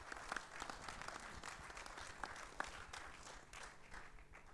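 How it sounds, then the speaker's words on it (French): An audience at a conference on artificial intelligence applauds a speaker, a steady, even patter of many hands heard at a moderate distance for several seconds. "Je pense qu'on peut l'applaudir."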